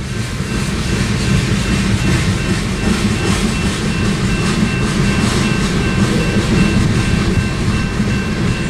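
Ethanol freight train rolling past at Tehachapi, a loud, steady rumble of wheels and railcars with continuous clatter filling the whole stretch, close to the track.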